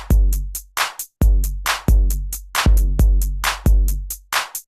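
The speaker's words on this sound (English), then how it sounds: "And this is the closed hi-hat," Closed hi-hats on a Roland 909 drum machine: crisp, tight ticks in an even eighth-note pattern over a booming, decaying kick on each beat. Loud, dry and mechanical, with no voices.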